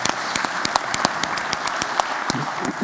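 Applause from a conference audience at an opening session, a steady patter of many hands clapping close by, with sharper individual claps standing out, lasting a few seconds without talk.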